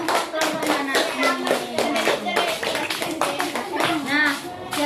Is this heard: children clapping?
yes